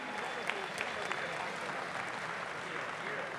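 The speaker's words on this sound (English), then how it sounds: "round of applause for both of our boxers" A fight-night crowd at a featherweight boxing bout on the Gold Coast gives steady, dense applause for both boxers, an even wash of clapping throughout with no single standout voice.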